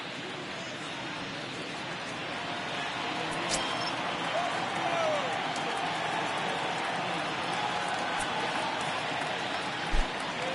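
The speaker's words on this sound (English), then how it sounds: "the home crowd seems a little restless" Restless home crowd murmuring at a Pirates at Phillies baseball game, a steady broad roar of a large stadium audience with a few sharp claps and shouts rising out of it, continuous and moderately loud.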